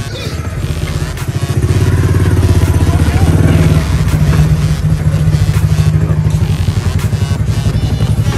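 An auto rickshaw engine runs on a street in Pakistan, a close, loud, throbbing putter that holds steady and rises slightly in pitch partway through, with clattering along the way.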